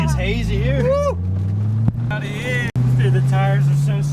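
A C5 Corvette does a burnout, its engine revving hard in loud, rising bursts and holding a roaring drone, close by, with excited voices shouting over it.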